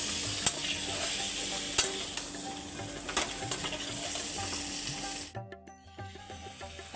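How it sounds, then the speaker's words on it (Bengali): Boiled green jackfruit is stir-fried in a pan with a steady sizzle, and a spatula scrapes and taps the pan several times before the frying suddenly drops away into quiet clinks. "এবার দেবো সিদ্ধ করা এঁচোড় দিয়ে ভালো করে আমি এটাকে কষে নেব।"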